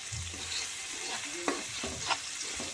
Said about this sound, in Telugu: కొంచెం అడుగు అంటకుండా మనం కొంచెం కలుపుతూనే ఉండాలి మధ్యలో మధ్యలో.